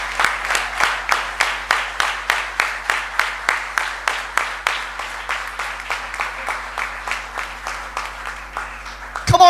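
An audience claps in steady unison, about two sharp beats per second, close and loud, repeating evenly for several seconds before a voice briefly cuts in at the end.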